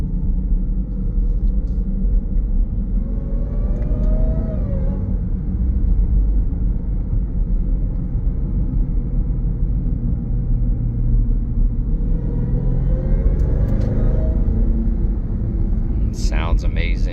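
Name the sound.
Jeep Grand Cherokee Trackhawk engine and exhaust accelerating, shifting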